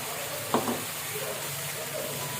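Water hits hot fried spices in a pan, a sudden hiss and sizzle that settles into a steady close frying crackle without talking.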